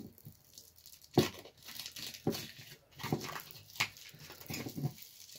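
Tape-wrapped mystery beer package being torn open, with crinkling paper and sharp tearing bursts in irregular bursts, close by and fairly quiet, no talking.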